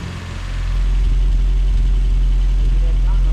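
A Triumph TR3 engine idles steadily after carburetor adjustment, a loud, close, continuous low rumble that rises in the first second and then holds an even note.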